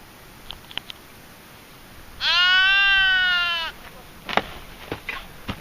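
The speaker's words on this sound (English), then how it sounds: "Little sheep just outside our camp." A sheep bleats once, long and wavering and fairly close, just outside a mountain camp in the Cordillera Huayhuash. Faint clicks and rustles of camp activity come before and after.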